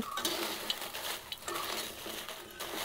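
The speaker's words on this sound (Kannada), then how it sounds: "ಈ ಥರ 2 ಸೌಟನ್ನು ಹಿಡ್ಕೊಂಡು ಚೆನ್ನಾಗಿ ಹುರಿಬೇಕು" Red chillies roasting in coconut oil for Udupi-style sambar powder, stirred with two ladles: steady close sizzle with scraping metal stirs repeating in a loose rhythm, no voices.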